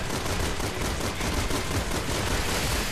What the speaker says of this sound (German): Nehmen wir mal ein taktisches Sturmgewehr hier.